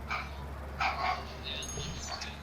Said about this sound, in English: was my dog barking, by the way.